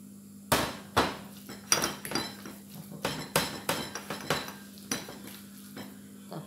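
Minced pork going into a steaming dish: a steady run of hard clinks and knocks as a utensil taps and scrapes against the dish, about a dozen sharp hits at an uneven rhythm, close and fairly loud, with no talking.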